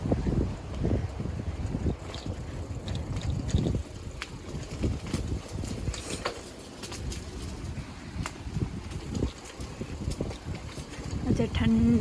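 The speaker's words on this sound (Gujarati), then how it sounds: "આજે ઠંડો પવન આવે છે." Cold wind blowing outdoors along a narrow alley in the UK, heard as gusty low rumbling buffeting on the microphone, with scattered bird calls above it.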